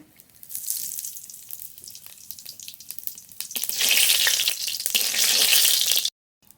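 Whole cumin seeds crackle and sizzle in hot mustard oil in a wok, starting lightly and then swelling into a loud, steady frying hiss before cutting off abruptly.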